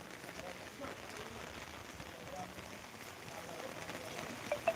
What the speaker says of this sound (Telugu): మన విలేజ్లో అయితే ఇప్పుడు వర్షం అయితే కురుస్తుంది